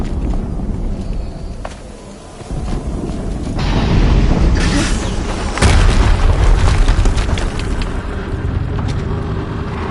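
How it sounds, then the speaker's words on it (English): A loud explosion in the video game Horizon Zero Dawn, a heavy booming blast that swells around four seconds and hits again near six, with rumbling debris and clatter trailing off afterward. "explosion."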